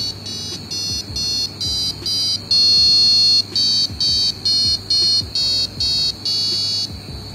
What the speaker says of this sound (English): let's hear the Wio terminal buzzer sound